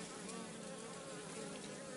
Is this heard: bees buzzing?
yes